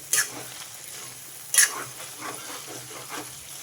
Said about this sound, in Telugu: ఇవన్నీ బాగా కలిసేలాగా కలుపుకోవాలి